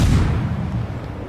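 Naval gunfire from a destroyer-class ship in World of Warships, a loud, close burst of deep booming that decays over about a second with no talk over it.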